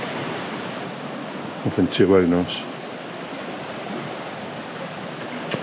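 Broad steady rush of a river running high after Storm Babet in Castleton, constant and moderately loud, with someone speaking briefly over the flowing water partway through.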